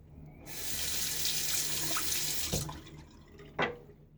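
A bathroom tap runs into a sink for about two seconds while a shaving razor is rinsed, then stops, followed by a couple of soft knocks and taps of the razor against the basin.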